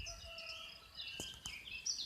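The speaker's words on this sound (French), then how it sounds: "on entend le coq qui chante un petit peu plus loin, et puis les oiseaux" Faint, distant outdoor ambience with small birds chirping and twittering in brief bursts, and a rooster crowing far off, all very quiet with no speech.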